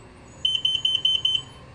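A Hansshow powered frunk on a Tesla Model 3 sounds a rapid run of about ten sharp, high electronic beeps in programming mode, close and clear over a quiet background.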